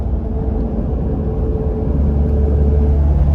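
A Toyota van with a blown head gasket runs with a loud, steady low rumble and whir that swells slightly toward the end, with no one speaking.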